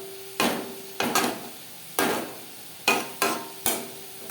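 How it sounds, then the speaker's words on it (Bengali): Drumstick leaves stir-fried in a pan over a low flame, giving six distinct scraping, knocking spatula strokes spaced irregularly, each followed by a short fading rustle against a quiet background. "লো ফ্লেমে 3-4 মিনিট নাড়াচাড়া করে নেব।"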